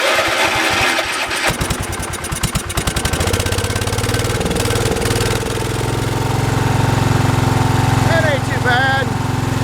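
A small engine cranks, catches and settles into a loud, steady run with the choke on, close by, with a brief spoken remark over the running engine.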